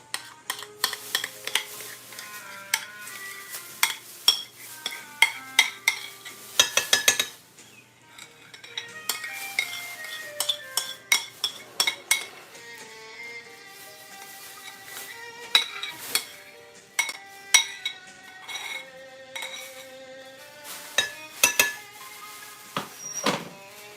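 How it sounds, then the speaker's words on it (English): Utensils clink and scrape against a bowl as a salad is tossed with dressing, with irregular close clatter and a few sharp taps throughout. "And just mix it all together."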